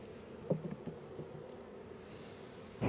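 Honeybees from an opened hive hum softly during a spring inspection, a low continuous drone with a few light bumps and rustles, no voices.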